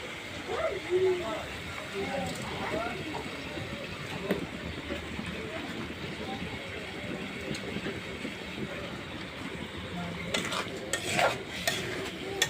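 Tomatoes are sautéed and stirred into a spiced egg and potato curry in a pan, giving soft scraping and a low sizzle with irregular clinks of the spoon against the pan, fairly quiet throughout.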